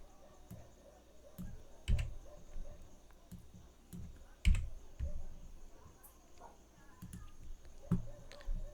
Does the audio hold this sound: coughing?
no